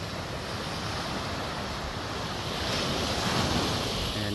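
Rough sea during the habagat monsoon, with waves surging and washing ashore steadily, heavy wind buffeting the microphone throughout and the surf swelling louder toward the end.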